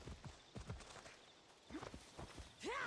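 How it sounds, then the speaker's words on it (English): Hooves of a video game horse clip-clop in an uneven walking rhythm, fairly close, with a brief whinny-like cry near the end and no talking. "Horse! There you are."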